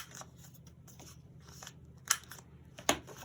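Scissors snip through paper being trimmed for a paper bag folio journal, soft crisp cuts with two sharper, louder snips near the end, close and quiet with no talking.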